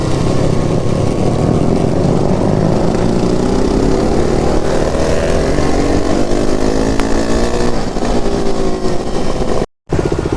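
A KTM RC390 BS3 motorcycle engine revs hard on a night ride, loud and close, its droning pitch climbing steadily with a brief dropout near the end.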